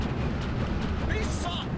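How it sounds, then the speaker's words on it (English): Heavy artillery shelling in the Steel Division 2 wargame, a dense continuous rumble of distant explosions with a few higher whistling tones near the end, heard under some talking. "And we're getting shelled over here, and over here now, and over here"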